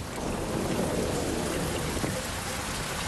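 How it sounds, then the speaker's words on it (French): Steady, dense rain pours down, a constant close hiss of drops hitting a surface with no voices. "Sous la pluie."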